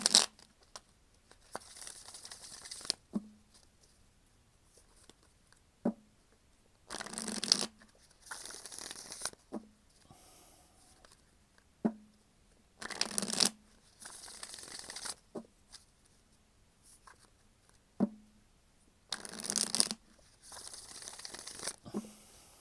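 A 1983 Royal Fez Moroccan Tarot deck from US Game Systems is shuffled by hand, with several crisp riffling bursts a few seconds apart and quieter card handling and tapping in between, close up in a quiet room.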